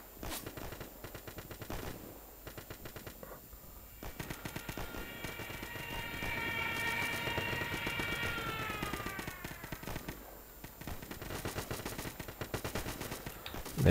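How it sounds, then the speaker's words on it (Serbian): Rapid bursts of machine-gun and rifle fire from a battle in the video game Easy Red 2, sustained and crackling at mid distance, swelling and fading over several seconds. "tamo čuje se pucnjava"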